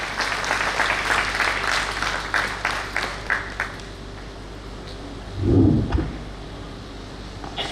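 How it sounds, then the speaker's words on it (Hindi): Audience clapping at a Diwali celebration at CVM Logistics: a steady mass of applause from a crowd fills the first few seconds, then fades into a quieter room with a brief low thump. "तालियां।"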